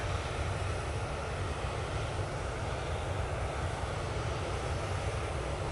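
Steady broadband roar of a Norwegian airliner at Manchester Airport, a continuous engine and wind wash holding level throughout without talk.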